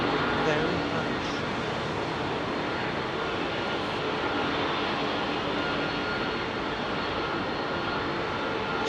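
A British Airways Airbus A380 rolls on Heathrow runway 27R close by, giving a steady, dense jet-engine roar throughout, with a person speaking over the noise.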